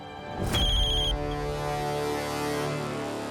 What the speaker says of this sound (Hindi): ये दामिनी ताई का फोन आ रहा है।